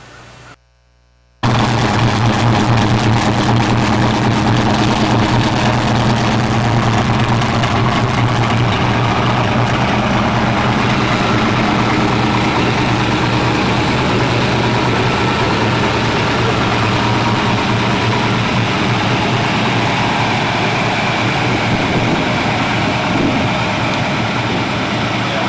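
A 1969 Dodge Charger Daytona with a 503 engine idles close and loud, a steady unbroken rumble that kicks in after a brief quiet start and holds evenly to the end.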